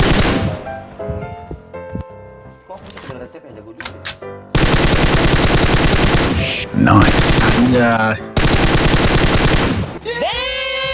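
Loud, heavy automatic gunfire in PUBG, long sustained bursts broken by short pauses, mixed with game sound effects and players talking.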